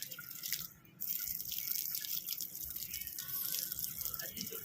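Water sprays from a pipe onto a parrot being bathed in cold weather, a steady hiss of running water with drips that drops out briefly near the start and then continues close and fairly loud.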